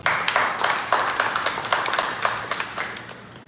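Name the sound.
congregation clapping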